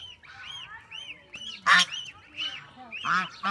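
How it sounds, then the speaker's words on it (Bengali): Ducklings quack and squabble, pecking at one another near a pond, a close cluster of short nasal calls and sharper honking cries in irregular bursts, with some rustling between. "আর ওই হাঁসের বাচ্চা মনে হয় একটা আরেকটার সাথে ঠুকরে ঠুকরি করে"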